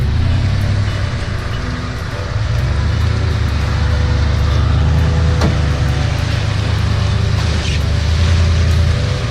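A truck engine idles and is given a little gas while trail riding through a deep muddy puddle, producing a loud, steady low rumble with sloshing water noise and faint clicks.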